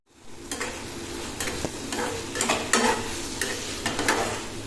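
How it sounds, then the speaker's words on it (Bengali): Spice paste being stir-fried in a pan, a constant close sizzle broken by repeated scraping strokes of a spatula at an irregular pace. "মশলাটাকে কষিয়ে নেব কষাতে থাক"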